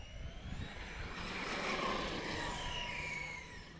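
A Losi DBXL E electric RC car passes on pavement, its motor whine rising and falling in a brief flyby over a broad rushing hiss, moderately loud and alone.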